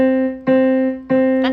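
Two heavy, pressed piano notes on a single key, each struck firmly and left to ring with a sustained tone before the next; a brief third attack begins at the end, with no voice over them.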